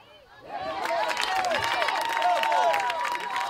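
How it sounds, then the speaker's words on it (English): Crowd at a high school girls' sectional soccer game, rising from quiet into a swelling mix of cheering voices and scattered shouts that stays loud and busy for the remaining few seconds. "The crowd's getting loud here."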